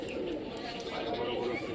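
A Rajshahi Giribaz pigeon coos softly in a short, low, murmuring call, heard up close with a voice talking over it.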